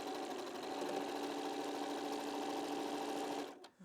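A sewing machine runs steadily, stitching quilt scraps together in a continuous whirring burst that stops abruptly near the end, with no talking.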